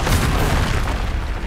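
Bombarda spell explosion in the video game Hogwarts Legacy, a single loud, dense boom that rolls out for over a second.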